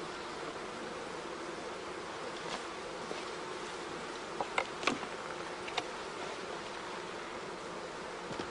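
Honey bees at an apiary hive keep up a steady, even buzz throughout, with a few brief ticks and taps rising over the hum midway.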